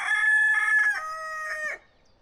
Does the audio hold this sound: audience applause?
no